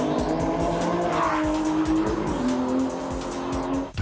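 An Aston Martin V12 Vantage S roars loudly throughout, its engine note climbing and shifting as tires squeal and skid on the track, with no one speaking.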